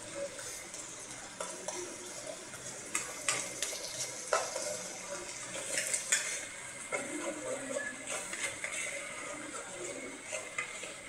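Quiet sizzling of food frying in a pan while it is stirred, with repeated scraping and clinks of a utensil against the metal over a soft continuous hiss.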